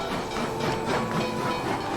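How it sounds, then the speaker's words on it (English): A train pulling in, a continuous rumble with steam hiss and faint rhythmic rail clatter, loud and close throughout. "The train! It has arrived!"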